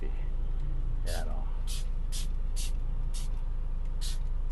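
Several short hissing bursts of spray cleaner, about six, sprayed onto a dirty car interior during cleaning, evenly spaced over steady low background rumble, with someone talking at the start.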